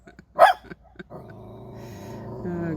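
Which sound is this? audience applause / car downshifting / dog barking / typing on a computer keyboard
dog barking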